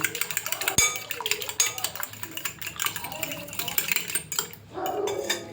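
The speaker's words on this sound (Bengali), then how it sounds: "এবার ডিমগুলো ফাটিয়ে নেব।" Eggs are cracked into a bowl for a flour-and-egg snack, one sharp crack against the rim among the ongoing clinks and clatter of utensils and dishes, close and fairly loud.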